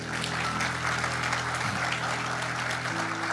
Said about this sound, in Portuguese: quem pode dar a Jesus uma salva de palmas?